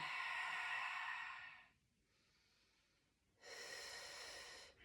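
Heavy breathing during a split squat stretch: a long, strong exhale, then a quiet pause, then another forceful breath, close and audible with no talking.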